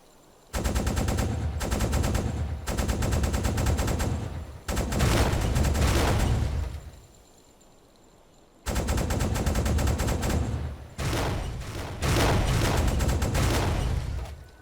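A U-boat deck gun fires in the Uboat video game in long, loud automatic bursts of rapid shots, broken by short pauses and one longer quiet gap before the firing resumes.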